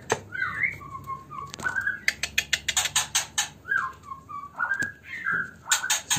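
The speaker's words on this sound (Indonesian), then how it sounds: "anakan murai batu ini menetas ya" White-rumped shama chicks in a cage, chirping and whistling in bursts of quick, repeated peeps and short rising calls, close and fairly faint with brief pauses between them.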